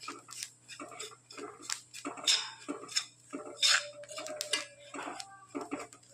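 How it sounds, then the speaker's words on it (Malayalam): A spoon stirs a fenugreek mixture for traditional uluva unda in a hot iron pan with the flame off, making a string of close metallic scrapes and taps at an uneven rhythm over a faint background hum. "ഇടയ്ക്കിടയ്ക്കൊന്ന് ഇളക്കി കൊടുക്കാം"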